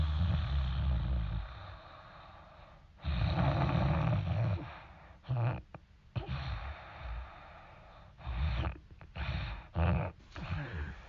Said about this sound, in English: Will you stop bloody snoring?